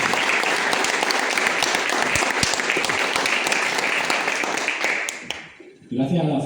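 An audience at a book presentation applauds loudly and steadily, the dense clapping fading out near the end before a voice starts speaking.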